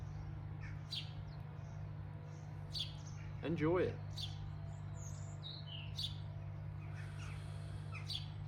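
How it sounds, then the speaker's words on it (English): Scattered bird chirps and tweets in the distance over a low steady hum, with a brief spoken phrase in the middle. "listen to the birds chirping in the background"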